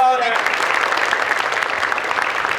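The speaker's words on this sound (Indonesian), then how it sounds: "tepuk tangan dong" Audience applause at a Ruangguru special with a celebrity guest, a dense, loud burst of clapping that starts abruptly after a voice and holds steady for a couple of seconds.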